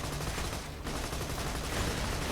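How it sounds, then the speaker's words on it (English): Gunfire from enemy cars in the video game Borderlands 2: a dense, continuous crackling barrage of rapid shots that never lets up, loud and close, with no voices. "we're getting shot at now by these cars"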